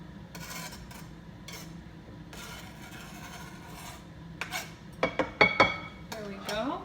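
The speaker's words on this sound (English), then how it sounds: "I'm going to take my third to quartered olives and just put them into the batter here" Quartered olives tipped into savory bread batter in a bowl, a few soft scrapes followed by a cluster of sharp clinks and taps of utensil against the bowl near the end.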